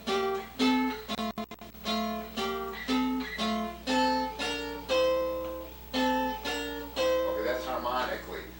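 A melody is played with a harmony line a sixth below it, sounding together as a series of clear two-note intervals in an even, moderate rhythm.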